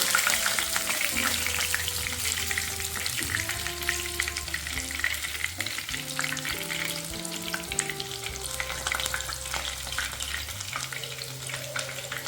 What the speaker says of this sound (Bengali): দেখুন বন্ধুরা এটা ভাজা হয়ে গেছে এরকম করে বাকিগুলো আমি ভেজে নেব